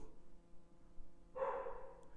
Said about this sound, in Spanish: mi perro Willy se está quejando de que terminó